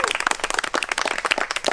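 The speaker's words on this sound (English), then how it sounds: "Big applause." Audience applause at a graduation celebration, with dense, rapid clapping from many hands filling the room, loud and steady with a few sharper individual claps standing out.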